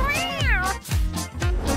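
A cat meows close by: one long, drawn-out, wavering meow followed by a few shorter calls, with no talking.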